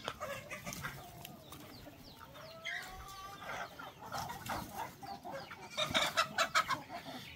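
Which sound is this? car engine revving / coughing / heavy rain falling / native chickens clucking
native chickens clucking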